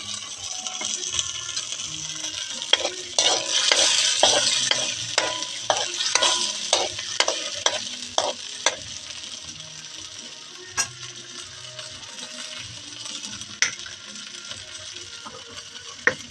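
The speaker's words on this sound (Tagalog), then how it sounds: "dito po kami nagluluto sa may uling kasi po nakakatipid na po yan ang gas." Canned food fries in a pan over a charcoal fire, with a close, rhythmic series of scraping stirs over a soft sizzle that slows and thins toward the end.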